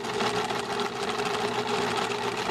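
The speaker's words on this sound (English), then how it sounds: "now I am going to go back up and sew around the neck" A sewing machine hums steadily while stitching around the neckline of a small top, a continuous close whir with a fast needle rhythm and no pauses.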